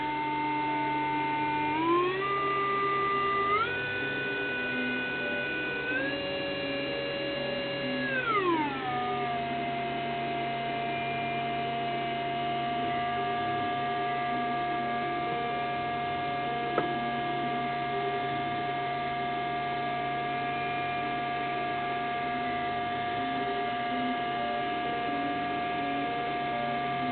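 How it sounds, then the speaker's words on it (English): A steady sine wave tone from a synthesizer's voltage-controlled oscillator, with pitch glides early on, settling into a sustained hum with faint background whir and a single tick midway. "This is the sine wave."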